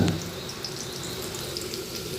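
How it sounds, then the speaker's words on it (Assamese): Onion, green chili and whole cumin seeds frying in oil on a low flame for a fish curry, a soft continuous sizzle with faint crackles, quiet and close, no talk. "এনেকৈ কিছু সময় পিঁয়াজ, জলকীয়া, গোটা জিৰাখিনি ভজাৰ পিছত"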